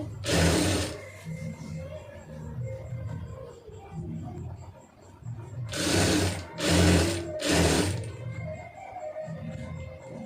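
A sewing machine runs stitching thread piping onto a garment sleeve, its needle whirring in several bursts: one short run at the start, then three close back-to-back runs near the end, with quieter room sound between.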